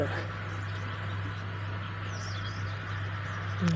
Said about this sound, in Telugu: పిచ్చుకలు బండిలో ఉన్నవన్నీ తింటా ఉంటాయి పైన చూడండి ఒక పిచ్చుక